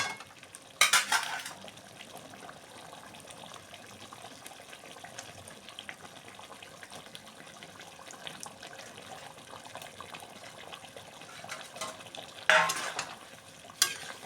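A spoon lightly stirs a Bengali fish kalia curry in a pan, with faint scraping and a low simmer, plus two short louder bursts of clatter near the start and end.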